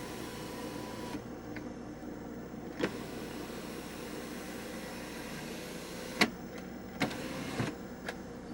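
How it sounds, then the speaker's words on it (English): The electric sunroof of a 2017 Maxus G10 2.0 TGI van slides open with a steady, fairly quiet motor whir inside the cabin, punctuated by a few sharp clicks near the end. "This one opens the sunroof while this one closes it."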